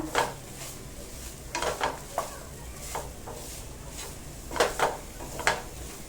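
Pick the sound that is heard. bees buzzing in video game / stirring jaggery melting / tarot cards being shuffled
stirring jaggery melting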